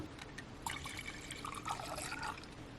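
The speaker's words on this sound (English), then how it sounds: "Got my coffee. Actually, let me pour myself some more." Coffee poured into a cup, a faint, close liquid trickle and splash lasting a couple of seconds.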